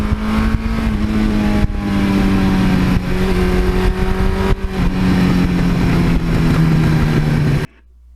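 A 1982 Suzuki GS1100E motorcycle engine roars loud and close under sustained throttle, pitch climbing through gear pulls with brief dips at shifts before cutting off abruptly at the end.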